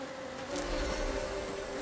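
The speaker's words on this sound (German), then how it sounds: "Ah, hier sind übrigens die Bienen." Bees buzzing in the fairy-tale first-person game Blacktail, a steady droning hum with layered tonal bands that holds throughout at moderate volume, with no voices over it.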